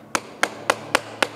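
A hammer strikes a metal stamp to brand bars of homemade olive and bay laurel soap, five sharp, evenly spaced knocks in quick succession, close and alone.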